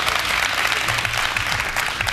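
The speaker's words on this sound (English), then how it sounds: "A round of applause for this round of debates." An audience at a student leadership debate on access to higher education in South Africa applauds the round of debates, a loud, dense wash of clapping sustained throughout.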